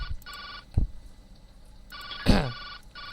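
A mobile phone rings in a video game, a synthetic electronic ringtone in two bursts separated by a pause, interrupted by a couple of soft thuds and a louder knock.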